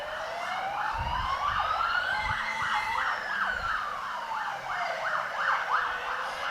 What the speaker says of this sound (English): Thankfully, that ambulance is going past us.